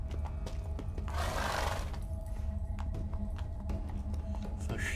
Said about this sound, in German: das Pferd wird jetzt Schwarze Schönheit genannt